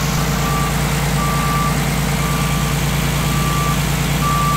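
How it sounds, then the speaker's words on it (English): A truck backs up with its reversing alarm sounding, evenly spaced high beeps repeating about once a second over a loud, steady low engine idle, close by and without talk. "We'll get her to back the truck up."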